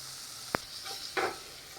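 Prawns fry with a soft, steady sizzle in a pan, punctuated by a sharp clink and a brief scrape of stirring, close and fairly quiet.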